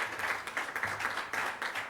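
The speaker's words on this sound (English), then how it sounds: "Let's give them a round of applause for their support of this great event." Brief rhythmic clapping from a small audience at a Rocket Classic golf tournament press conference, a few clear rounds of claps, fairly close and without talk.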